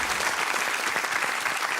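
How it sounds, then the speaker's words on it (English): Studio audience applause on a comedy game show, a dense, even wash of many hands clapping at once, loud and sustained without a break. "We just applauded a horrific act of murder"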